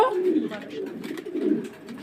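Pigeons from an egg-laying breeding pair coo softly and repeatedly at a farm, with people talking over the low rolling calls.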